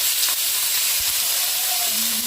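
Bulgogi beef strips sizzle and fry in a hot oiled pan, a steady close hiss with no break, a brief faint tone near the end.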